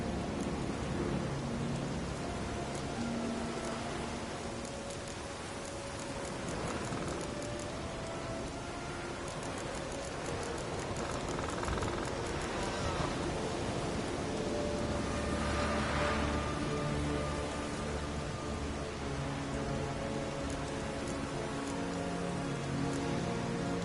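Steady heavy rain beats down through a thunderstorm in The Witcher video game, with rumbles of thunder swelling under the constant downpour and no voices.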